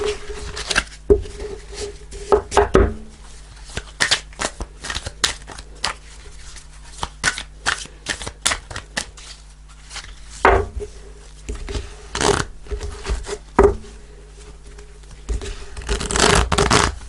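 Shiny, slippery tarot cards being shuffled and handled on a table, with repeated crisp flicking and sliding bursts close by, some loud riffles near the start and end, no talking.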